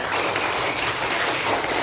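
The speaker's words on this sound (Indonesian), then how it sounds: "Tepuk tangan untuk kita semuanya." A group applauds at a school gathering on positive school culture, a dense, steady wash of clapping that stays loud and unbroken for the whole stretch with no voices over it.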